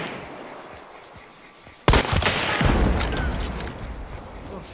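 Gunfire in Hunt: Showdown: after a quiet ambient stretch, a loud close shot cracks out and is followed by a rumbling burst of further shots and echoing reports, with a voice faintly under it.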